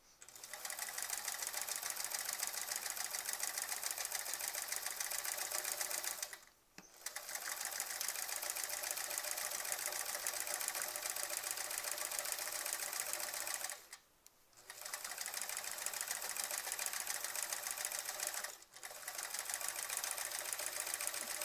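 A quilting machine stitches a Splendid Sampler 2 quilt with a fast, even, close-up mechanical hum, broken by three brief stops before each run restarts.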